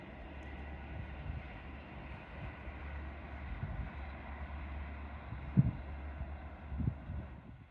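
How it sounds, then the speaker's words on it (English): A steady low rumble of a train passing at a distance, droning continuously with a couple of louder clanks near the end. "Train!"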